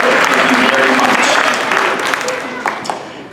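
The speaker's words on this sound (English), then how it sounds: "Could we get a big round of applause for all of the names and students that were just mentioned" Audience applause fills a Veterans Day ceremony at a school, a dense, steady wash of clapping from a crowd that holds strong throughout and thins slightly toward the end.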